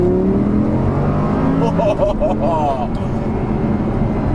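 A car in sport mode with its exhaust valves open accelerates hard after downshifting, giving a loud, sustained, rising engine roar close by. Someone talks over it.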